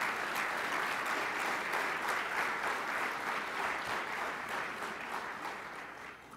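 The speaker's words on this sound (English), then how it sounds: "we can give you a round of applause" An audience applauds steadily throughout, a dense patter of clapping that slowly fades a little toward the end.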